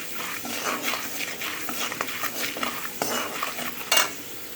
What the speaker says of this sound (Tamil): இந்த கடலைப்பருப்பு உளுத்தம் பருப்பு வந்து நான் ஒன்றா போடுறேன்